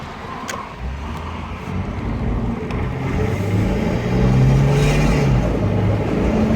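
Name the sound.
1999 Nissan Pathfinder driving and accelerating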